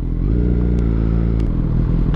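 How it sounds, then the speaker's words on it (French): A motorcycle running with an open, straight-through exhaust sits close and loud, its deep steady engine note holding throughout with a slight rise near the end. "Le mec, il était en échappement libre"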